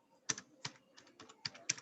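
A computer keyboard being typed on at a steady pace, with about six distinct, crisp key clicks, close and fairly quiet, alone with no talking.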